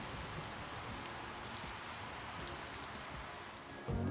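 Rain falls near Longwa village in Nagaland, on the India–Myanmar border, a steady close patter with scattered sharper drops and no speech, ending in a brief louder bump.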